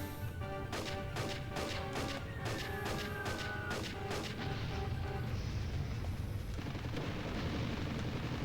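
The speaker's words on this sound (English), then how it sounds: "I can call an airstrike." Airstrike explosions in the N64 game Army Men: Sarge's Heroes 2, a rapid series of sharp crashing blasts in steady succession over a continuous rumbling game backdrop, thinning out toward the end.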